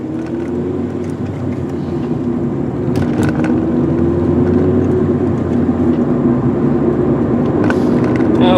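A 2005 Ford Focus ZX3 with a five-speed manual drones loudly from inside the cabin as it pulls through the gears, the engine note rising steadily under a constant road rumble.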